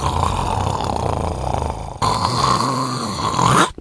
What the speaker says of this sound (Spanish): Empezó el concierto de los ronquidos.